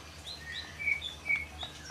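Small birds in an aviary with white-eye (pleci) and magpie robin (murai batu) birds give faint, scattered high chirps and short whistles against a quiet background, a few calls standing out briefly.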